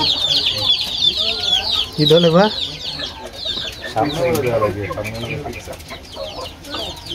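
Tiger chickens cluck and squawk close by, with repeated chirping calls, while people talk over them.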